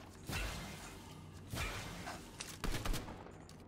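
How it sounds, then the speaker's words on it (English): Gunfire in a shooter video game, a few sharp close bursts spread over a few seconds, fairly faint overall with short whooshing tails and no talk. "Whoops, I didn't mean to shoot."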